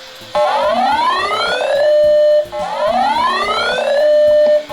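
A Uniden HomePatrol-1 scanner's weather radio alert tone sweeps upward then holds a steady high pitch, repeating twice in close succession, loud and harsh.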